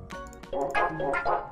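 Dogs in Minecraft give a quick run of short yips and barks, several in close succession, fairly faint and mixed with light game sounds.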